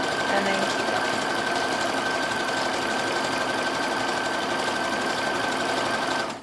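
A sewing machine runs continuously at a steady, fast, even stitching rate while fold-over elastic is sewn onto lingerie, stopping abruptly at the very end.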